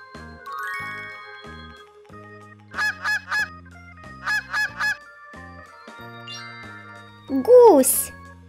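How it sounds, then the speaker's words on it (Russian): A goose honks in two bursts of three loud, nasal honks each over a bright jingling children's tune, separated by a short musical pause. "Гусь."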